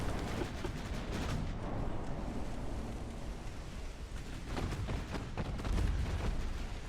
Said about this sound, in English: our 5-inch gun's finally getting in on the action a little bit